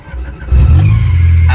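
A worn-out 1990s Honda Civic with a tired clutch revs up loudly as it pulls away, its engine note jumping sharply after a quieter idle and holding a strong, steady drone close by.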